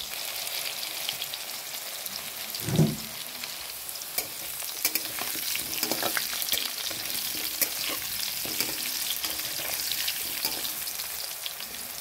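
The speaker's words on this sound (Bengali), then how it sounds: "বন্ধুরা দেখুন আলুটা লাল লাল করে ভাজা হয়ে গেছে," Medium-sized potato pieces fry in a pan for a home-cooked curry, giving a steady close sizzle with occasional stirring scrapes and no talk.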